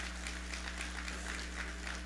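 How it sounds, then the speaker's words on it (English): Faint applause ripples through the room at a 2018 MEAC football press luncheon, soft scattered clapping over a steady low hum. "Give Coach Jeffries a round of applause."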